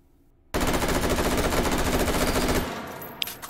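An M4A1 carbine fitted with a muzzle brake fires in the video game H3VR: a loud, rapid burst of automatic gunfire lasts about two seconds, then trails off into a fading echo with a single faint clack afterward.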